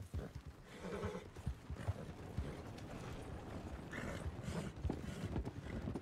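Horse in the Red Dead Online video game, with hooves clip-clopping and a neigh over game ambience and mechanical creaks, all moderately quiet.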